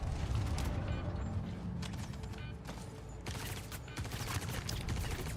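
Gunfire in the Star Citizen video game rattling in continuous distant bursts, with mechanical clanks and creaks, under a steady rumbling background that is faint overall.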